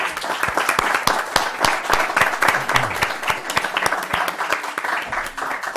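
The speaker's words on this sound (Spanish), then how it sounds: "démosle un aplauso a los compañeros" A modest audience claps at the close of a youth trends survey presentation, a dense patter of individual hand claps that stays fairly steady and close for several seconds.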